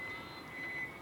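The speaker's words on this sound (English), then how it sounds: "activate this passenger safety sound" A Nissan Leaf electric car reversing with its pedestrian safety sound switched on emits a thin, high electronic tone in two short stretches, fairly quiet over a soft background hiss.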